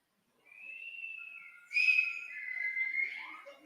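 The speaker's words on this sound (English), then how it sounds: "And whistle loudly." A group at a youth retreat whistles loudly, with long sustained shrill tones that rise and swell, grow louder partway through and keep going until the end.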